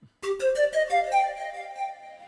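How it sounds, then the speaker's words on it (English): A breathy synthesized panpipe melody from a Yamaha Genos 2 keyboard, quick rising notes each with a soft delay echo trailing behind, settling into a sustained held tone. "that's the sound of the panpipes."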